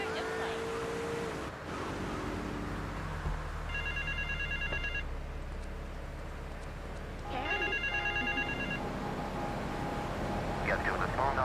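A telephone in Grand Theft Auto III rings in two bursts of rapid electronic trilling, separated by a pause, over steady engine rumble and water-like background noise. A voice speaks at the start.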